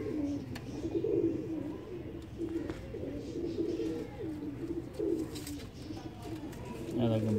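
Pigeons cooing, a prized young pigeon of a Sherazi-type breed among them, giving repeated low, throaty coos through the clip against a busy background with some voices.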